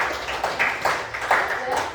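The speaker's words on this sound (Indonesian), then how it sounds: "Kita beri tepuk tangan untuk kelompok 2" Classroom applause for a student group finishing their turn, steady uneven clapping from a small class with a few voices mixed in, filling the moment up close.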